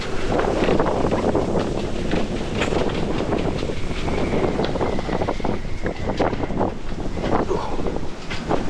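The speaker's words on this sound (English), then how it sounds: "as the wind's blowing so hard, it's squashing our fenders pretty much flat" Strong wind roars steadily across the microphone aboard a sailboat moored in harbour, with loud continuous gusting buffeting and faint rigging whine, no voices.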